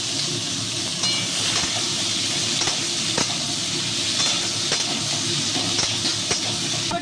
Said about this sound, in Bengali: আর বরবটিটা দিয়ে দিচ্ছি একসঙ্গে সব ভেজে নেবো